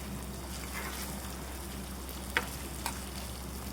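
An egg frying and being stirred in a pan, a faint continuous sizzle with two brief utensil taps, no talking.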